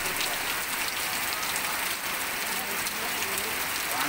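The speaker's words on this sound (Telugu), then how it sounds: "ఏజెన్సీలో భారీ కుండపోత వర్షం" Heavy torrential rain during a thunderstorm in a rural agency area pours down in a loud, unbroken hiss. The dense drumming of drops stays steady throughout.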